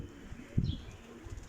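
Pigeons in a loft area give a few soft coos and a brief flutter midway, fairly quiet against a low background hum, with no talking.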